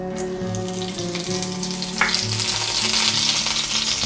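Mustard seeds and curry leaves crackle and sizzle in hot oil, a busy spattering hiss with a sharper burst midway, over a low steady hum.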